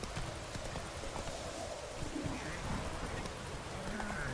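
Roach, a horse in The Witcher 3, clip-clops steadily in a gallop through rain on a wet road, hoofbeats running continuously throughout at moderate volume over a soft rain hiss.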